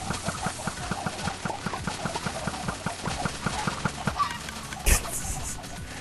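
Chickens packed into a Minecraft infinite chicken machine cluck constantly in a quick, regular stream of overlapping calls, fairly close, with redstone mechanisms ticking alongside.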